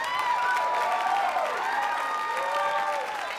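An audience at Jay Mohr's stand-up show at Gotham Comedy Live claps for a joke, giving a steady, dense burst of applause that fills the whole moment at an even level and tapers only slightly at the end.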